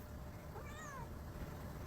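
A restrained cat, held for a medial saphenous venipuncture, lets out one faint, drawn-out meow with a falling pitch, heard through a steady hiss of background noise.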